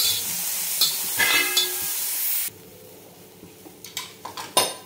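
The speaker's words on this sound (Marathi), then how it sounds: "तर हा 1 कांदा घेतलेला आहे, तो आपण भाजून घेऊ। छान लालसर भाजायचं." An onion dry-roasting in a pan for a spicy chicken curry base, first a strong sizzle, then quieter scraping and clinking as it is stirred, close and with no talking.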